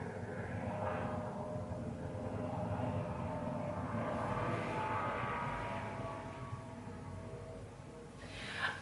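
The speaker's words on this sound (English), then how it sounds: "I think that's a helicopter" A helicopter flying overhead, heard through an open window, gives a continuous rumbling engine drone that swells and fades at moderate distance, with no talk over it.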